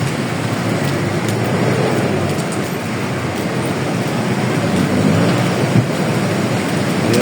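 Heavy rain pours down steadily and loudly throughout, with a deep rumbling of thunder underneath, in an outdoor survival setting.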